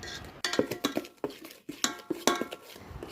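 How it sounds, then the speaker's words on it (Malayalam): Carrot cake batter being mixed by hand in a bowl: a spoon scrapes and clinks against the sides in uneven, fairly close strokes, with no talking. "കുറച്ച് കഷ്ടപ്പാടുണ്ട് ഇത് മിക്സ് ചെയ്യാൻ"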